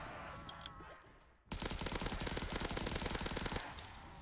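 Rapid automatic gunfire from an unnamed weapon in a zombie video game, a sustained two-second burst of fast, evenly spaced shots that cuts in loudly and stops abruptly, set against a quieter game ambience.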